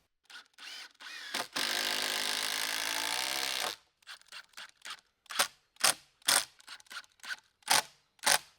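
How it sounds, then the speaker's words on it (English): A power drill drives long deck screws into the rails and posts of a sawmill stand: a steady whir lasting about two seconds, then a run of short sharp knocks and clicks nearby. "I'm just using this to screw the rails to the posts."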